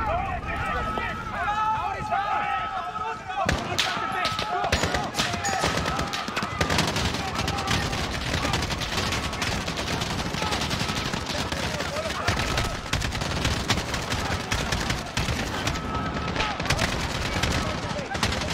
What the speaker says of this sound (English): They're shooting at nothing.